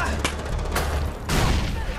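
A grenade explosion in the Far Cry 4 video game, heard as a loud burst of gunfire-like blasts with sharp bangs and a heavy rumbling boom partway through, set in dense game combat noise.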